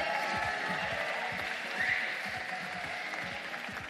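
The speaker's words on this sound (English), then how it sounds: "May I get a round of applause from Miss Jessica Alba?" Audience applause closing an evening panel discussion, a steady, fairly soft wash of clapping from a room full of people, holding at even level with little variation.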